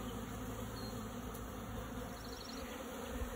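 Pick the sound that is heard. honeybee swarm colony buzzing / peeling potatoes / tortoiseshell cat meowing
honeybee swarm colony buzzing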